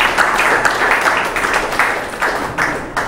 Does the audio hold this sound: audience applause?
yes